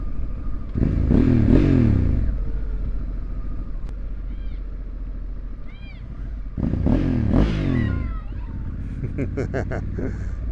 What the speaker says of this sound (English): this 2024 Honda Africa Twin with the brand new 2024 model fuel Diablo Titanium exhaust